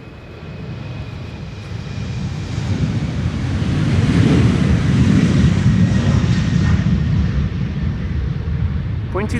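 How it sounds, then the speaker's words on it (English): Narrow-body jet engines spooling up for takeoff on runway 36L Polderbaan at Amsterdam Schiphol, a broad rushing roar that swells to a peak midway and stays loud, with wind buffeting the microphone. "the first of the two narrow bodies already spooling up."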